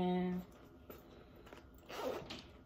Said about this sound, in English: Oh, and that zipper.